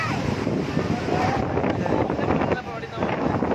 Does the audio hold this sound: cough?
no